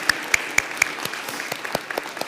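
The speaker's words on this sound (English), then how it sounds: "let's just all give it all a big round of applause" Sparse clapping at a spiritual empowerment gathering honoring a 12-step recovery organization: thin, evenly spaced claps from a small group, moderately close, with no talking over them.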